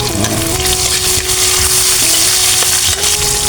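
Garlic, ginger and onion sizzling in hot oil in a pan, a steady close frying hiss throughout with occasional stirring scrapes and a faint hum in the background.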